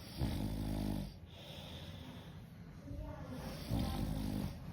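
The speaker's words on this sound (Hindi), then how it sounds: "तो दोस्तों ये कुछ इस तरह से खर्राटे लेता है" A man asleep outdoors without electricity snores in slow, heavy rasping breaths, a loud inhale, a pause, then another, heard close by.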